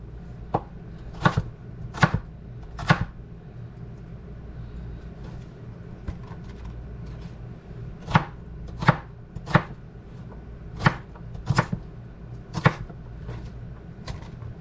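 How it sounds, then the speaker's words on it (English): A knife chops onions on a cutting board in a home kitchen, about a dozen sharp, close knocks in loose clusters with pauses between, over a low background hum. "Chop up my onions the size I want them to be."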